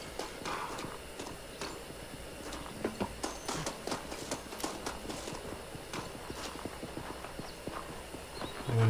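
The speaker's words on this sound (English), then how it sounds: "oh, there's a horse there." Horse hooves in the video game Red Dead Redemption clip-clop in a quick, uneven rhythm of sharp knocks, fairly close, continuing throughout with no talking.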